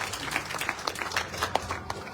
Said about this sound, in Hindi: जोरदार तालियां बजाइए इनकी।